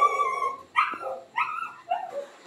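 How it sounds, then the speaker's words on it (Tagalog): A small Chihuahua barks four times in quick, high-pitched yaps, close and clear, with whiny tones between barks. "sobrang ingay ng aking aso guys"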